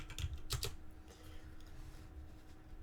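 Quick keystrokes on a computer keyboard as a web address is typed, a short close burst of clicks at the start and then a fainter tapping under steady room hiss.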